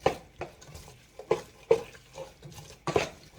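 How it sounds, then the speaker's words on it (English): Carrots being stirred in a pot with onions for vegan carrot soup over medium heat: a utensil scrapes and clinks against the pot in irregular strokes, close and fairly crisp, with no talking. "Turn this at medium heat and we're gonna mix this all together"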